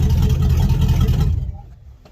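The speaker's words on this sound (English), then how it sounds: "Listen to that old Pontiac Pontiac 317 purr." An old Pontiac 317 V8 with unfinished exhaust work rumbles steadily at idle with a deep, throaty low-end purr, then cuts off abruptly, leaving quiet.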